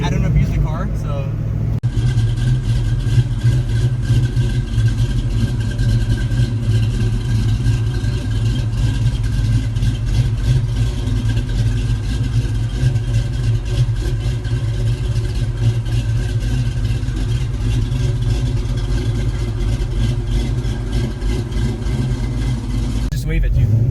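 Ford Mustang SN95 with a 408W stroker V8 rumbling steadily from inside the cabin during a ride, a loud, continuous low drone with slight rises in revs throughout.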